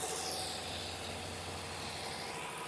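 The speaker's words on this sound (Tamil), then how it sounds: "இன்ஜின் ஆன் பண்ணி விட்டுருக்காங்க. பெரிய இன்ஜின், ஏதோ கும்மின்ஸ் இருக்கு இன்ஜின் நேமு" A large Cummins engine idles aboard a Malaysian purse seine fishing boat with a steady low rumble and constant mechanical hum, unchanging throughout.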